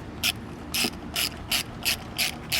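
A ratchet clicks in seven quick, evenly spaced bursts while loosening intake parts on a 2008 Hyundai Tiburon, close up over a steady low background hum, with no talking.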